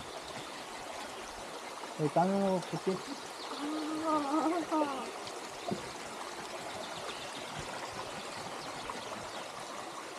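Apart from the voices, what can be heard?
waterfall Kartala flowing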